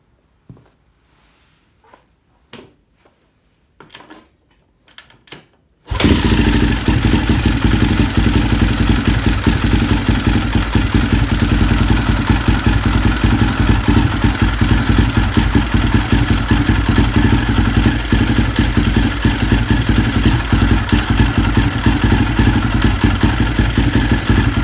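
A dirt bike engine fires up after a clutch replacement and settles into a loud, steady clattering idle close by, following a few seconds of quiet handling noises beforehand.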